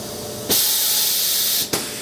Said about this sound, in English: Do a tool change.